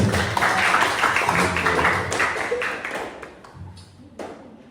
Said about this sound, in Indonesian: tepuk tangan buat kita semua boleh?